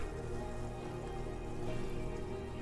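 Water jets in a cold plunge tub run at motor speed 2, giving a steady, faint churning hiss over a low motor hum, with no talking.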